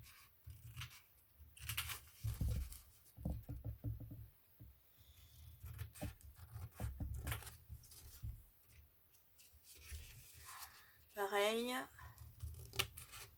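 Scissors snip out small paper squares for a desk organiser, with quick crisp cuts and paper rustle close by while a person talks over much of it.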